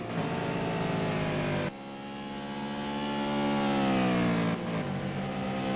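Race cars from the Simraceway racing game sweep through the final corner, a loud continuous engine drone that dips abruptly, then climbs in pitch under acceleration before dropping again on an upshift.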